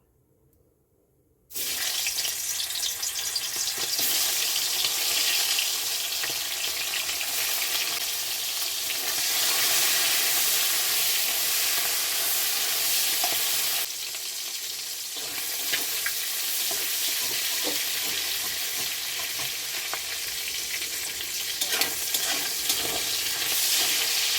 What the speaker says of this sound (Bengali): এবার মাছের মুড়ো আর তেলগুলো ভেজে নেব।